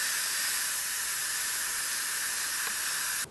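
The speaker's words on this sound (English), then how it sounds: "we're gonna quick release the pressure" Steam blasting from the vent of an electric pressure cooker during a quick pressure release, a loud, steady, broadband hiss that holds unbroken for several seconds and cuts off abruptly at the end.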